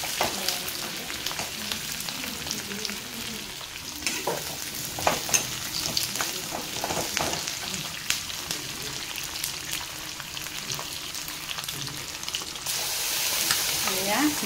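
Meat and onions frying in a pan, a soft continuous sizzle with occasional stirring scrapes, fairly quiet and steady with no talking.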